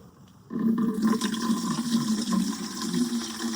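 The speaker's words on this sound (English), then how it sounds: "I'm going to just pour this out." Collected rainwater pours steadily out of a seed starter reservoir bottom container in a garden, a sudden close splashing gush that continues unbroken for a few seconds.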